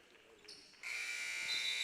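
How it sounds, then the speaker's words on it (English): A buzzer sounds at halftime of a boys' league basketball game, a loud sustained electronic tone cutting in after a quieter stretch of gym noise. "Right before the buzzer."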